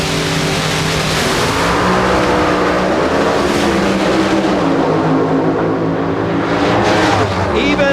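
Supercharged Top Alcohol drag racing cars roar through the final round at a Southern California strip, a dense, loud engine blast sustained throughout with shifting pitch as they thunder past.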